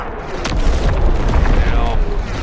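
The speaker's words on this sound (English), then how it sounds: "Incoming enemy artillery! Get to cover!" Incoming enemy artillery shells land with loud, deep booms and rumbling blasts in the Call of Duty WWII game, continuing through the full stretch under dense battlefield noise, with a voice heard amid the din.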